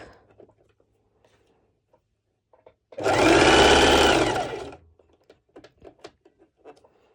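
Sewing machine stitching ruffles on a bikini top, a single dense whirring burst of about two seconds between quiet stretches with light clicks and handling taps.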